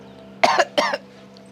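Two sharp, close coughs in quick succession, then quiet.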